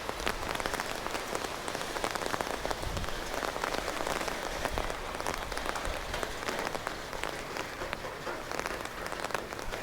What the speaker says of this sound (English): It could be raining a lot harder than it is.